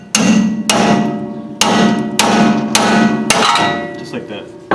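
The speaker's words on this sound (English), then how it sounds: "Now put my pickle fork in here and whack this bitch like she owes you money." A hammer whacks a pickle fork wedged into a ball joint on a Pontiac GTO/LeMans front suspension: six loud, ringing metallic blows at a steady rhythm, close up, with no talking.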